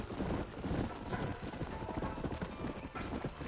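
Horse hooves clip-clop at a steady riding pace in the Western video game Red Dead Redemption, the hoofbeats close and continuous under a busy mix of game sound.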